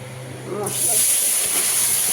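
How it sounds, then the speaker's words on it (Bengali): Cumin seeds and spices hit hot oil left from frying potatoes for an egg curry, setting off a sudden loud sizzle partway in that keeps hissing steadily to the end, with a faint voice before it. "মশলাটা কষিয়ে নেব"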